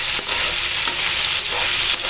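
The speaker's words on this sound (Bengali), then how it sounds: "সবজিগুলো অ্যাড করে এটা আমি নেড়ে করে দেবো," Vegetables are stir-fried in a pan for a homestyle Chinese vegetable dish. The sizzle is loud and close, and stirring swishes recur roughly every second.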